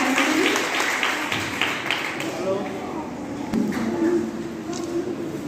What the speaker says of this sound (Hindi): 5 पर जोरदार तालियां हो रहा है।